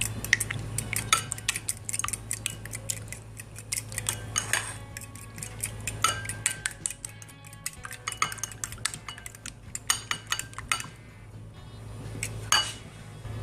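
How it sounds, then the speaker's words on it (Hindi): A fork beats two eggs in a bowl for a spinach omelette, tapping and clinking rapidly and steadily against the dish at close range, in several bursts with brief pauses and no talking. "अब हम ये 2 अंडे लेंगे। सबसे पहले इसको बीट कर लेंगे कांटे की मदद से।"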